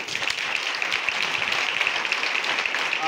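A church congregation claps hands together in a continuous, dense patter that holds at steady loudness with no talking over it.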